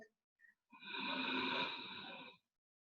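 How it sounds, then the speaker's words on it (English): Slow, steady Ujjayi breath drawn through the nose with a soft whispering rasp at the back of the throat during a yoga practice, one sustained breath of about two seconds, close and fairly quiet. "So still breathe through the nose, but find a little bit of whispering sound at the back of your throat."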